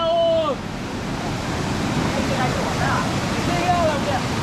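Continuous rushing water of a river waterfall, with people wading into it, fills the background while voices shout and call out over it close to the microphone.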